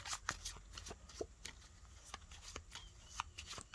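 A deck of cards for a solo game of Valley of the Kings: Afterlife being shuffled close by, a quick run of crisp riffling bursts and soft slaps, quiet, with no talk.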